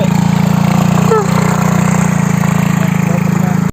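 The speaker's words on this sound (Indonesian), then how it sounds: "Di posisinya kita lari karena nggak kuat motornya Mas Udin ya." A motorbike engine labours under strain, a loud rapid pulsing chug held steady for several seconds before cutting off abruptly.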